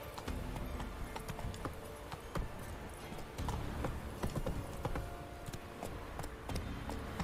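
Roach, the horse in The Witcher 3, gallops steadily, hooves clip-clopping in a quick, even rhythm up close, with faint game ambience underneath.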